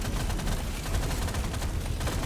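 A continuous barrage of blasts and gunfire-like bangs rumbles through a Deep Rock Galactic Survivor battle, dense and loud with no gaps and no voices.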